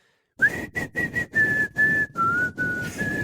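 A clear whistled melody from a song, loud and close, phrased in short bursts with brief gaps, carrying a tune with no talking.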